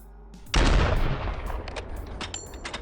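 Gunfire in Warzone 2 — one heavy, booming shot that rings on, then a few fainter reports and clicks trailing behind, with no talking.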